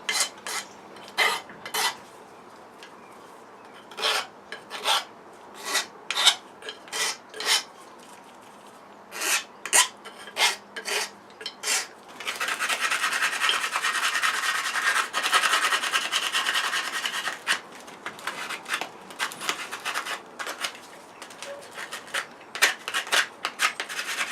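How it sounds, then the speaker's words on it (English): The sides of a frame are scraped and sanded by hand, rhythmic rasping strokes in short bursts, then a denser stretch of continuous rubbing before the separate strokes return, close and without talk. "the best bit to do is give it a good scrape down on the sides and a good sand down"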